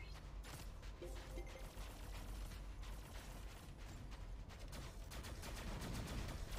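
Assault rifle fire in the Shadowgun Legends game, heard as a steady, dense stream of quiet rapid shots and mechanical clatter throughout, with no voices.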